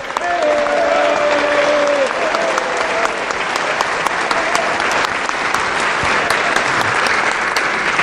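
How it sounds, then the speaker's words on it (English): Warm applause fills a West Virginia legislative chamber for a former delegate, loud, sustained clapping from many hands throughout, with faint voices underneath. "I'd like to give him a warm round of applause."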